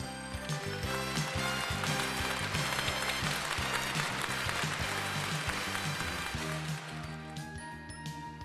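Sustained audience applause at a song-of-the-year awards ceremony, dense steady clapping under loud stage music, fading slightly at the end.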